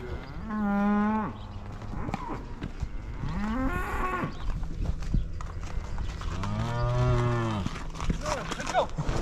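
Cattle on a farm on weigh day moo loudly several times, long drawn-out calls close by, with shuffling and movement between them.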